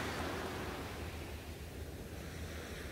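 Peaceful dawn surf rolling in and washing gently up a sandy shore, a continuous broadband hiss of breaking water with some wind, steady and moderately quiet, no talking.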